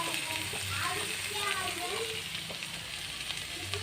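Tomatoes sautéing in a pan for vegetable wheat rava upma, a steady close sizzle with faint scraping and stirring clicks running throughout.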